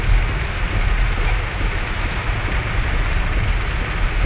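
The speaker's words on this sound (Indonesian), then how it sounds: "Hujannya tambah deras," Heavy rain drums steadily on a car while driving home from Lembah Indah, a loud constant wash with low engine rumble underneath and no talk.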